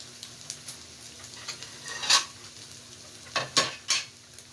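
Garlic and onion sautéing in a pan make a soft, quiet sizzle, with a few brief scraping and stirring clatters of utensil on metal, one near two seconds and a cluster around three and a half to four seconds.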